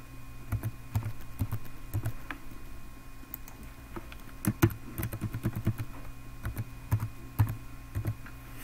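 Password being typed on a computer keyboard during a Windows Server 2012 R2 setup: a steady run of light, close keystrokes in irregular bursts, fairly quiet, with no talking.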